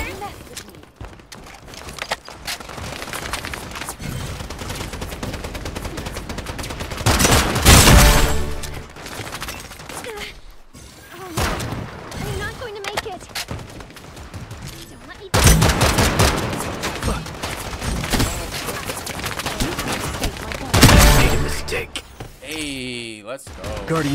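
Rapid bursts of gunfire from the hero shooter game Strinova, with loud volleys and fusillades recurring throughout and several sharp peaks, heard alongside game effects and a player talking.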